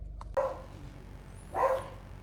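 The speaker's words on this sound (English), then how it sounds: "you're gonna hear my dog in the background probably bark" A pet dog barks in the background during a remote start install on a 2024 Subaru Crosstrek Wilderness, giving two short, muffled barks roughly a second apart over low background hum.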